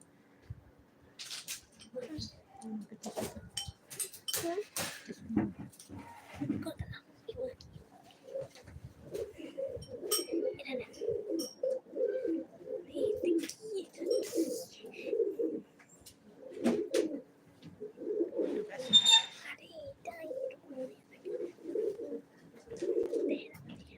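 Pigeons coo in soft, repeated throaty phrases close by, continuing steadily, with some rustling and faint voices in the background.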